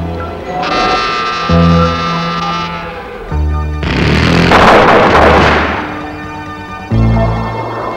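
A GAU-13A Gatling gun in a GPU-5A gun pod, firing at about 2,400 rounds per minute in long, continuous, buzzing bursts, loud and sustained, separated by brief pauses.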